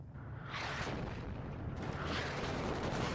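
Artillery fire in the real-time strategy game WARNO: deep, rumbling barrages with two broad blasts about a second and a half apart over a continuous low roar, no voices.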